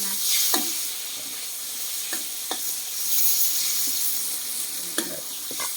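Garlic sizzles and fries in a pan for an eggplant stir-fry, giving a steady hiss with occasional sharp pops and scraping stirs and no talk.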